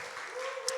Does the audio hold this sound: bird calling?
no